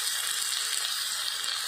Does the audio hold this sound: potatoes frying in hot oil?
yes